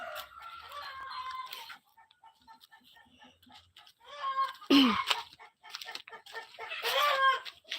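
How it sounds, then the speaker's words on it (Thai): Chickens cluck and squawk on a Thai farm, several bursts of clucking close by between stretches of casual talk and quieter moments. "ไก่"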